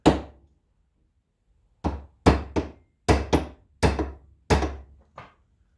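Eight crisp hammer taps ring out on metal in an uneven rhythm, close and fairly loud, with silence between strikes, during center roller replacement on a 2005 Honda Odyssey.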